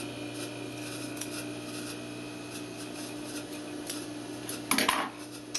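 Scissors snip through fabric while cutting a welt pocket opening, giving faint soft clicks and rubbing followed by one louder, close crunching cut near the end, with no talking.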